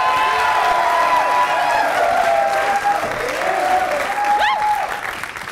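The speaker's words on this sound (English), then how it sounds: "Give her a round of applause as she comes out." Applause and cheering from a studio audience on a television dating show: loud, continuous clapping as a contestant walks out, with tonal music or whistle-like sounds threaded through it.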